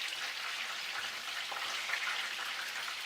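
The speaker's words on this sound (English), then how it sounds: "you need about 15 minutes at least in the frying pan because that's how large the chicken is" Chicken for chicken cordon bleu sizzles steadily in a frying pan, a close, continuous crackling hiss with no voices over it.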